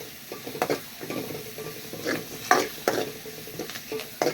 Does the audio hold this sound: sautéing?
yes